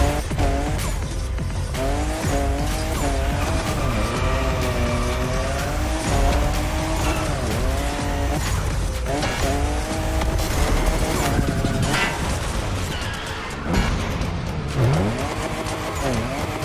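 A 349hp Toyota Supra drifts in The Crew Motorfest on PS5, its engine droning and revving up and down while tires squeal continuously and loudly through sweeping slides, with no voices.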